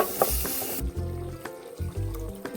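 Cooked beef is tipped into a pan of frying masala for a beef curry, giving close sizzling and frying with a few scraping stirs and clinks, no talk.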